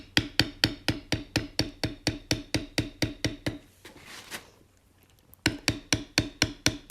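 A tooling stamp struck with a mallet bevels leather for a simple wallet pattern: about twenty crisp, evenly spaced taps, a short pause filled with faint rustling, then the steady tapping resumes close and loud.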